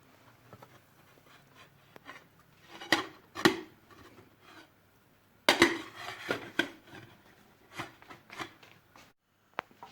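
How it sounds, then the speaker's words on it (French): A plate clatters against a frying pan as a thick crêpe is covered and flipped, with scattered knocks and scrapes of ceramic on metal, two louder clanks standing out among quieter handling noises. "Donc on prend une assiette, on couvre,"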